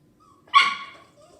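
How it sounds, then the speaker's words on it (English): A single sharp dog bark rings out nearby, followed by a short fading tail, with a faint whine just before and after. "Having a little dog issue here."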